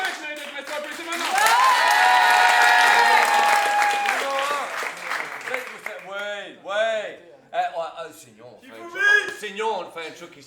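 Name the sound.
audience applause and cheering voting for improviser number 5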